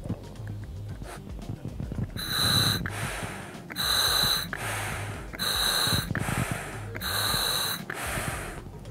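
Breathing through a Spare Air scuba regulator: four loud, hissing inhalations alternate with softer exhalations in a steady rhythm, close to the microphone, with no speech.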